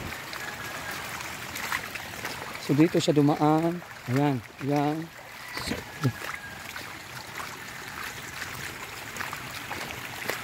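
Water runs through a once-dry drainage channel leading out from a residential area, a steady rushing wash heard throughout beneath a voice talking in the middle.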